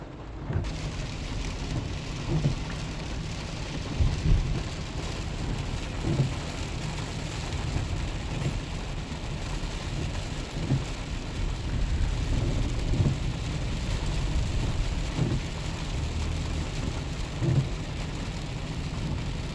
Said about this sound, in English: the purpose of this was to catch some hard rain